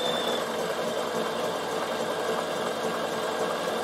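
A Bernina sewing machine couching on wool felt runs continuously at a steady, even whir with a fast mechanical rattle, close and unbroken throughout.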